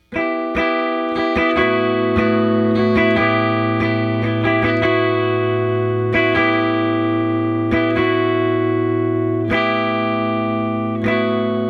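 A distorted electric guitar plays a repeating riff with sustained ringing notes and effects, steady and loud throughout.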